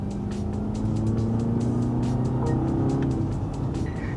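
A 2024 Mercedes-Benz E-Class or BMW 5 Series in sport mode accelerates with an enhanced synthetic drive sound, a steady rising hum that climbs in pitch inside the cabin over a constant road roar.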